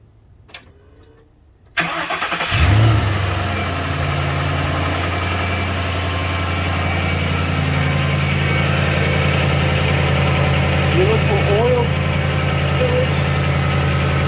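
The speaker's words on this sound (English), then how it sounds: "so now we crank her on and check underneath" A Ford Crown Victoria, fresh from an oil change, cranks and catches after a quiet moment, then settles into a steady, close idle that carries on evenly for the rest of the clip.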